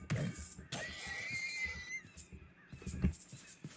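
A horse in the RLCraft Minecraft modpack lets out a long, high neigh that wavers and fades, with scattered game clicks and thumps around it.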